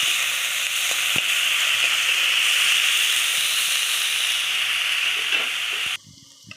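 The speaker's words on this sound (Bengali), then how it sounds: "পেঁয়াজটা ভাজা হয়ে গেছে" Onions frying in a pan over a gas flame for a prawn masala, a loud, steady sizzle and hiss that stops abruptly near the end.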